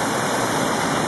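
Creek water rushes at a horse crossing, a dense, even, loud flow with no pauses and no voices.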